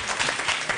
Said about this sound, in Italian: Fanno gli applausi anche in camera.